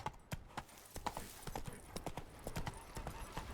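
Hoofbeats of the horse Roach in the video game The Witcher 3, a quick, steady rhythm of clip-clops at moderate volume.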